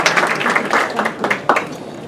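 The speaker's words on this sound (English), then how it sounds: "let's give them a round of applause" Audience applause for event sponsors at a chamber of commerce golf outing dinner, a steady wash of clapping from a crowd with a few sharper claps standing out, lasting the whole moment at moderate loudness.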